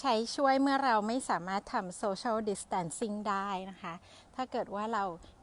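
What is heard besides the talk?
No distinct noise like a dog, phone or traffic.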